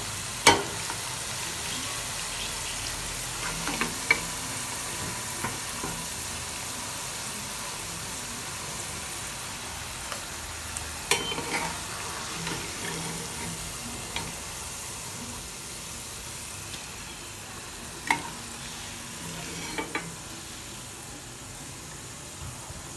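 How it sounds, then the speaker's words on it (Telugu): Onion pakoras deep frying in hot oil give a steady, fine sizzle and crackle throughout, with occasional louder pops and clinks as they are turned, and no talking. "పకోడాలు డీప్ ఫ్రై అయ్యేంత వరకు అటు ఇటు తిప్పుకుంటూ ఫ్రై చేసుకోవాలి।"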